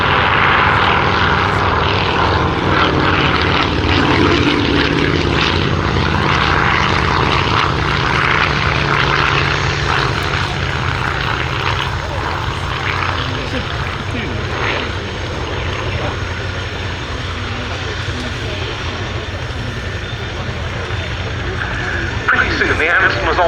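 Avro Anson Mk 1 propeller aircraft flying a display at an RAF Cosford airshow, a loud continuous engine drone that swells and slowly fades as it passes, with a voice commentating over it.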